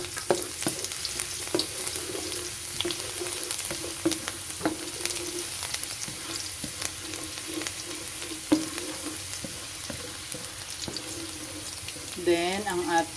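Garlic frying in hot oil for pork bola-bola with miswa and patola, a continuous close sizzle with small pops and occasional utensil clinks, and a voice briefly talking near the end.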